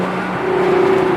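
An A90 Toyota Supra accelerates under a bridge, its engine note holding a steady rising drone that echoes slightly, close and loud, brief and without voices.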